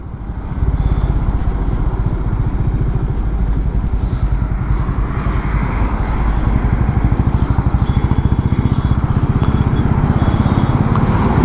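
A 350cc motorcycle, either a Royal Enfield Meteor 350 or a Honda Highness CB350, riding on the highway, its close, loud single-cylinder engine thumping in a steady rapid beat under continuous wind rush.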